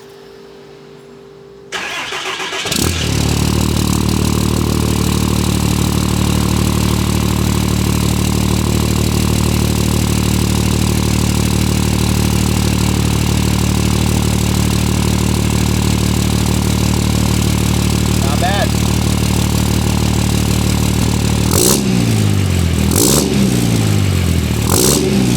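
A 5.9 Cummins diesel truck fitted with a 4-inch Diamond Eye exhaust cranks and fires up, then settles into a loud, steady, deep idle rumble that carries on alone, with a couple of brief throttle blips near the end.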